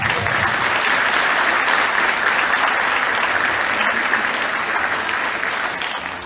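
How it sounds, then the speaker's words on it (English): A crowd at an Andrew Yang event gives a round of loud, dense, sustained applause that fills the space evenly before tapering slightly at the end. "Let's give her a round of applause."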